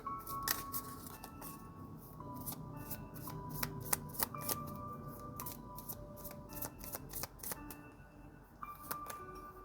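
A deck of angel oracle cards is shuffled by hand, giving rapid crisp riffling and flicking bursts with sharp card snaps scattered throughout, close and fairly quiet, with no talking.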